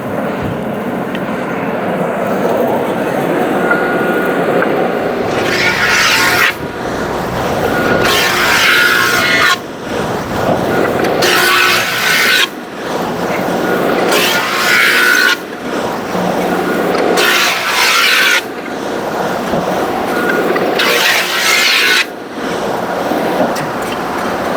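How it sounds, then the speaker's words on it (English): A board fed through a thickness planer in a woodworking shop, making a loud, steady machine roar broken into several passes of several seconds each, with brief dips between runs. "So now I'm gonna run it through the planer and get the rest of my thickness down."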